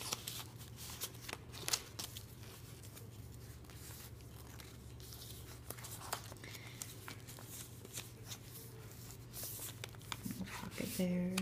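Pages of a handmade Beauties of Nature junk journal, built from paper, envelopes, index cards and tissue paper, are flipped one after another, giving soft rustles and papery flicks over a quiet background, with a louder shuffle at the end.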